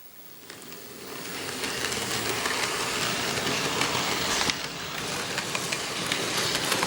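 An Athearn CP AC4400 model locomotive runs paired with an Athearn Genesis ES44AC, giving a steady close whirring motor and rolling rattle that builds slightly and holds for several seconds, with no talking.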